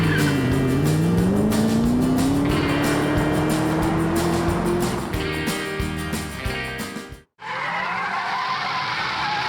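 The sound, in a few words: Ford Mustang V8 muscle car engine roaring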